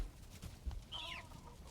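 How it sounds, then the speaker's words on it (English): Chickens in the Valheim video game cluck over a low ambient bed, with one clear rising and falling hen call in the middle. "We got a few chickens down there"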